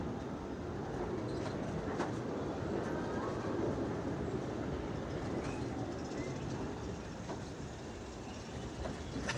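The Big Thunder Mountain mining train ride at Disneyland rumbles and clatters along its track in a steady, fairly faint wash of rolling noise, with occasional sharper knocks rising from the background.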